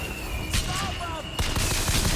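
Gunfire in a tense action scene: two rough bursts of shots sound close over a constant noisy background, with raised voices mixed in.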